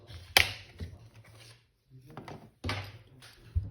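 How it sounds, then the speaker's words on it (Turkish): Thumbnail clicks and scrapes come from a fingernail prying the back cover off a Samsung Galaxy A02S, with sharp snaps of plastic separating around a quiet pause, close and fairly faint. "cihazın tırnak yardımıyla arka kapağını çıkarmaktayım"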